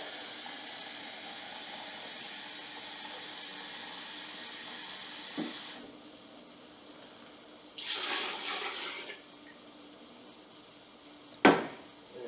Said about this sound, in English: A little more water.